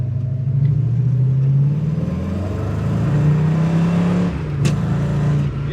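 A 1975 Ram Charger with a 440 engine and Flowmaster exhaust drones loudly at wide open throttle from inside the cab, a steady low rumble whose pitch rises and dips slightly, with no talking.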